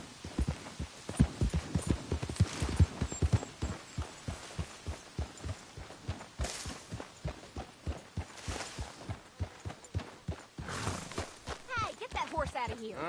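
Horse hooves clip-clop in Red Dead Redemption 2, a steady rhythmic thudding gait that runs throughout at moderate volume, with voices talking over it.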